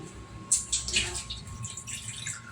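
Heated water poured out for making coffee, a brief splashing gush of liquid near and moderately loud, lasting about two seconds with a steady hum beneath.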